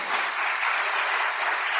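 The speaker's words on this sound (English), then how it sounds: "Let's give a round of applause for all of our panelists." A conference audience at a summit applauds its panelists with a loud, dense, even wash of clapping that runs steadily through the whole moment.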